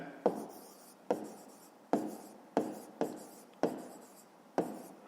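A pen or pencil writes out a math answer by hand in a series of about seven short, sharp strokes at a steady rhythm, close and quiet with no talking.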